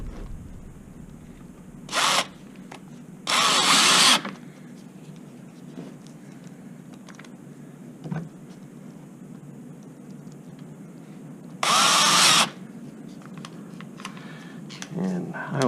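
A power drill drives T30 bolts back in during a car oil change, with several short whirring bursts, one long and one a little longer, over quiet background hum.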